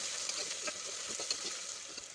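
Steady crackling sizzle of onions frying in hot ghee, continuous and close, with small pops scattered through it and no voices.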